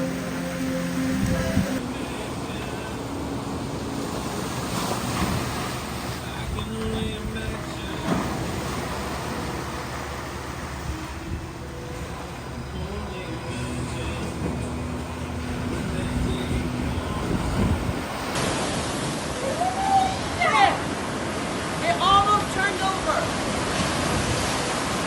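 Hurricane Beryl waves crashing on a Virgin Islands shore, a continuous broad wash of surf with heavier surges, fairly distant and noisy, with wind and some rain texture.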